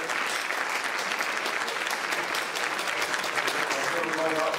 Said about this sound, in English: let's give yourself a big round of applause for coming down